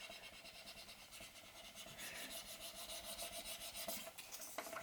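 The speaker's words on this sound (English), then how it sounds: "take a popsicle stick and just really push down everywhere, paying special attention to the edges" A popsicle stick rubs and scrapes hard across a Christmas ornament, burnishing a transfer down with quick, repeated rasping strokes that grow busier and louder partway through, close and with no talk.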